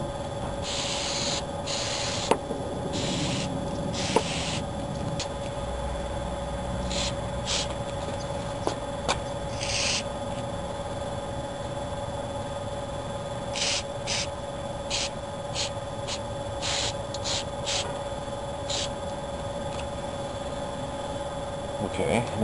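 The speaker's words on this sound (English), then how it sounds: "So I'm just going to spray on the underside." Short hissing spray bursts from an aerosol can of spray adhesive, applied to the underside of a car vinyl top, repeated in quick clusters, over a faint steady hum.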